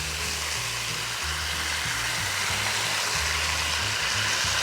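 Washed, chopped spinach cooking in a pan, a steady close sizzle and hiss continuing throughout with a low humming drone beneath and no talking.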